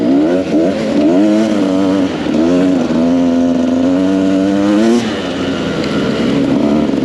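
An enduro motorcycle climbs a muddy mountain trail toward the summit, its engine droning loud and close with rising and falling revs as the rider works the throttle, continuous throughout with no talk.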